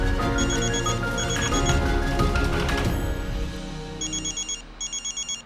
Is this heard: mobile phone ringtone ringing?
yes